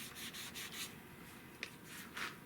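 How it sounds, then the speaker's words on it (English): Hand sanding a Tikka T3 rifle stock with 600-grit paper in a shop with open doors; repeated soft rasping strokes, a quick rhythmic run at first, then slower, scattered passes. "sanding this with 600"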